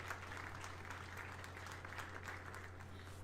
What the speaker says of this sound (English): Yay, we clap, everyone clap.